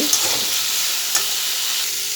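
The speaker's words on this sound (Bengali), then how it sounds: "এবার যে ভাপ দিয়ে রেখেছিলাম মুখি দিয়ে দিচ্ছি" Steamed taro (mukhi) is tipped into frying masala with green chillies. Throughout, a steady close hiss of frying comes through, broken by a couple of faint ticks and stirring scrapes. No voices are heard.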